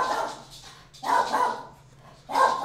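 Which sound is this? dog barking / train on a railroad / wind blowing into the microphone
dog barking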